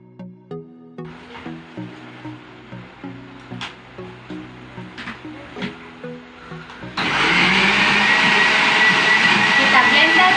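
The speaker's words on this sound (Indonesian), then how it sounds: "Kita blender sampai halus." Electric blender grinding kaffir lime leaves and lime leaves with water, starting abruptly after a stretch of quieter rhythmic tapping and then running loud and steady as a continuous high whir to the end.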